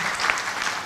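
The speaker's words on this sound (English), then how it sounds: "A warm round of applause for them" An audience at a business summit applauds the Grand Royal Swiss Hotel, the summit host. The clapping is a brief, dense burst that stays loud and even.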